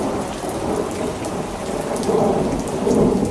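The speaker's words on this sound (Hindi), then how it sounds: "ये देखो बारिश भी आ गई, यानी मॉनसून आ गया।" Heavy monsoon rain pours steadily on surfaces with rolling thunder rumbling beneath, a dense, continuous wash of sound that swells slightly louder toward the end, with no voices present.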